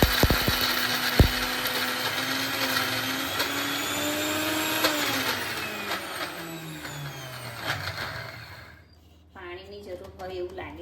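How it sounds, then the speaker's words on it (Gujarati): A mixer grinder whirs loudly and steadily as it grinds coconut chutney with water, its motor pitch slowly shifting, then winds down and stops near the end. A voice is heard after it stops. "હવે આપણે એને પીસી લઈએ"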